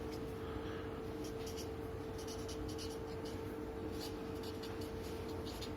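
Handwriting during a physics lecture on constant acceleration, steady faint scratching of a pen or marker over a continuous low hum, with no speech.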